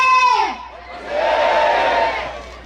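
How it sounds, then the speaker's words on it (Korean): Villagers and students shout together at a reenactment of the 1919 Myeoncheon student independence movement on a school field, a loud mass cry of manse rising after an opening shout and holding steady as a broad crowd roar. "전체에는 만세 소리가 울려 퍼졌습니다"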